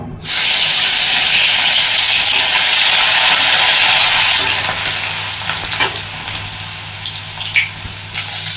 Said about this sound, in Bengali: তেলটা গরম হয়ে গেছে, মধ্যে দিয়ে দিচ্ছি রসুন ফোড়ন